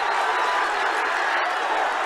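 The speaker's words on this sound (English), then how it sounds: "The crowd goes wild." Spectators at a schoolboy rugby match between Pretoria Boys High and Afrikaanse Hoër Seunskool first XVs roar and clap, a dense continuous wash of cheering and applause, loud and steady from start to end.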